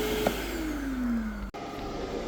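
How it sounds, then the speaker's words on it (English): A 120-volt, 8-amp vacuum cleaner running off a DIY solar power station hums steadily nearby, its pitch gliding slowly downward before a brief dropout, then continuing at a lower level. "It's a 120 volt, 8 amp vacuum we're running here."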